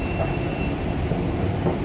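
A Bengaluru metro train rumbles steadily at close range, a continuous low roar of wheels and carriage noise with a faint high whine, no voices.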